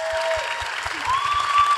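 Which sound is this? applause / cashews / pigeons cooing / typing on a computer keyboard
applause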